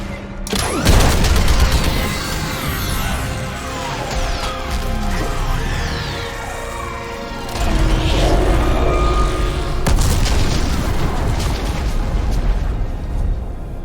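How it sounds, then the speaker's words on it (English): Heavy orbital strike explosions in Mass Effect 3, rolling booms layered with rapid weapon fire and crackling debris, loud and continuous with swells of blasts midway and near the end. "I need an orbital strike."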